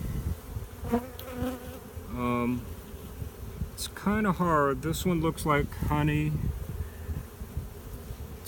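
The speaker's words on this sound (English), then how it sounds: "Here we see a lot more bees." Honey bees hum steadily around an opened hive with frames being inspected, a low continuous buzz running under close, frequent talking throughout.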